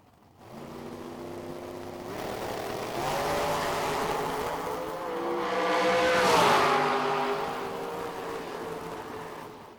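Drag race car at a drag strip, a loud engine building in a sustained roar that swells twice, peaking near the end before easing off, with no voices.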